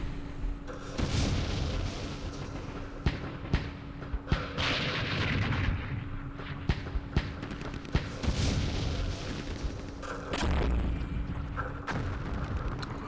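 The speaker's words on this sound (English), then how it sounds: "let's call in some airstrikes" Airstrikes and artillery fire in Campaign Series Vietnam, a Dien Bien Phu wargame: a continuous rumble of heavy booms and blasts, with repeated loud impacts and no voices.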